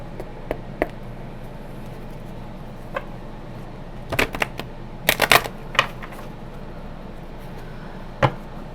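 Oracle cards being shuffled up close: scattered light taps, then clustered riffling flicks in quick bursts, with quiet gaps between them.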